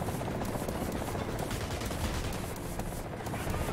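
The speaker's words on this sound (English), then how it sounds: "fire my MG at the approaching" A tank machine gun firing at an approaching helicopter in War Thunder, a dense continuous rattle of rapid automatic fire, loud and close, blending with a low rotor thrum throughout.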